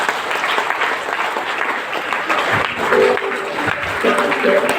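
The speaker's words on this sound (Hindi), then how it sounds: "जोरदार तालियां होनी चाहिए।" An audience at a business training event in India bursts into loud, sustained applause, dense clapping that continues steadily while someone speaks over it.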